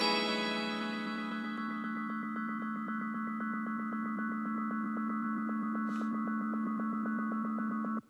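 A melody runs through a delay with feedback set above 100%, building into a dense, steady ringing drone of stacked tones with a fast pulsing flutter. It is faint and continuous for about eight seconds, then stops abruptly.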